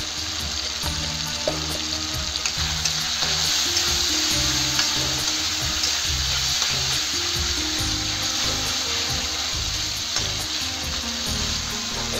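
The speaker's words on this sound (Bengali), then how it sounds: "আমার টমাটোটা ভালো করে ভাজা ভাজা হয়ে গেছে" Chopped tomatoes with turmeric and salt frying in a pan for moong dal with drumsticks: a steady, close sizzle with intermittent stirring and scraping throughout, no voices.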